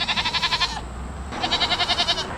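Goats from a grazing herd of nearly 40 near a suburban intersection bleat in two loud, wavering bursts of rapid pulsed cries, separated by a brief pause, with no talking.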